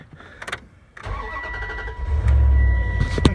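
A 2001 Dodge 15-passenger van with 68k miles, unstarted for a couple of weeks, cranks briefly after a few clicks and catches, settling into a loud, steady close-up idle.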